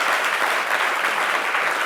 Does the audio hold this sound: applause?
yes